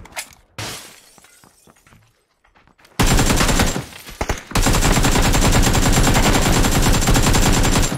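Rapid bursts of enemy gunfire in a video game ring out loud and continuous, starting after a few quieter seconds, briefly dropping, then resuming as sustained automatic fire with sharp, shattering impacts.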